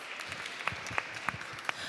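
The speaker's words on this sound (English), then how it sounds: "Let us invite them with a big round of applause." Audience applause welcoming a speaker to the stage at the Crypto Art Seoul 2023 afternoon conference, a steady dense patter of many hands with a few sharper individual claps, moderately distant and fairly soft.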